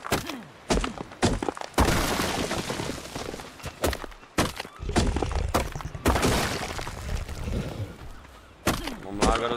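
Flint being gathered in ARK Survival Evolved: a rapid run of sharp cracking, shattering strikes and thuds in uneven bursts, fairly loud and close.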